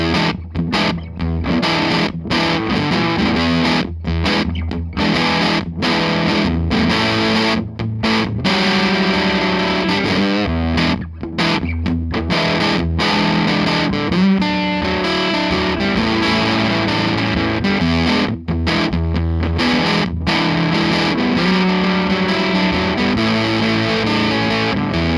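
An electric guitar plays a continuous strummed rhythm through a fuzz pedal with the fuzz only partly engaged, giving a loud, dense, gritty tone with short breaks between chord hits and no talking.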